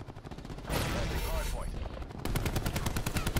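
Rapid gunfire fills a Call of Duty: Black Ops 4 Hardpoint league match, with dense bursts of automatic fire and shots from several directions. The firing is loud and near, and a steady fast rattle of shots comes toward the end.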